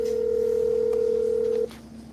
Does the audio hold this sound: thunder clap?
no